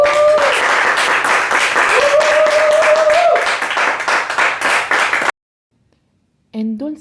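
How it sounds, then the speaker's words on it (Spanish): An audience claps for a female storyteller at a storytelling talk, loud dense applause for about five seconds with a tone ringing through it, then silence and a brief bit of speech. "Un aplauso para la dama, por favor."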